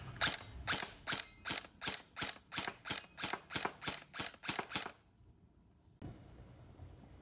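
Jingji SLR V4 toy rifle firing, a quick run of about thirteen sharp snapping shots in steady rhythm, then a pause and a single faint click, close and crisp with no talking.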